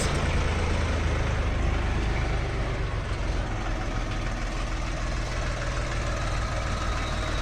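A Jinma 244 tractor with a three-cylinder KM-385 diesel engine idles steadily nearby, giving a continuous loud rumbling chug with no talking over it.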